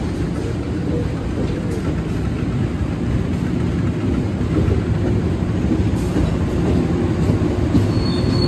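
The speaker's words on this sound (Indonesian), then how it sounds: "jalur 2 dari arah barat masuk kereta api Serayu" The Serayu passenger train, running from Pasar Senen toward Purwokerto via Bandung, rolls into track 2 at Maos station from the west with a loud, continuous low rumble of wagons and wheels and faint squeals, no talk.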